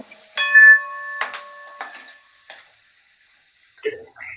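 Green chilies and amla are stir-fried in a pan over a low flame, with a few sharp spatula scrapes and clinks over a soft sizzle, spaced irregularly and close up.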